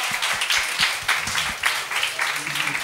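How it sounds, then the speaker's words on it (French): An audience at a stage show applauds a performer named Eric, a loud, ragged burst of clapping in uneven swells, with voices talking and calling beneath it. "Oui, on peut applaudir Eric, certain."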